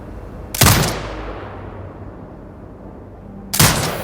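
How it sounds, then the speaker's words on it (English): Automated sentry turret in Sniper Ghost Warrior Contracts 2 firing two loud, sharp shots about three seconds apart, each followed by a long echoing decay over quiet ambience. "Exit binocular mode and command the turret to fire."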